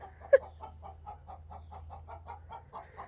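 Hens sing the egg-laying song, a steady run of about a dozen evenly spaced clucks with one sharp loud squawk near the start, heard close over a low farmyard hum.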